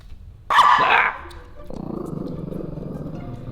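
A female dog barks loudly in a short burst, then gives a lower, rumbling growl that continues steadily close to the listener, with no talk over it.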